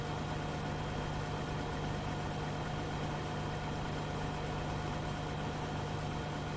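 Tractor engine idling in the Farming Simulator 13 video game during an oat harvest, a steady, unchanging low mechanical drone with a constant hum, loud and continuous with no talking.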